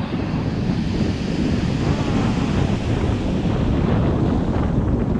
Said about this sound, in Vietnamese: gió to các bạn ơi